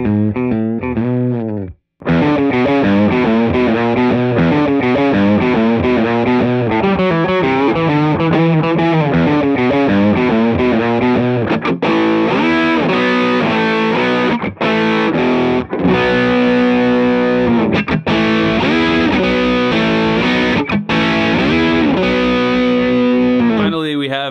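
Electric guitar played through Marshall-style distortion pedals, one a budget US Dream, with thick saturated chords and riffs ringing loud and continuous after a brief pause near the start.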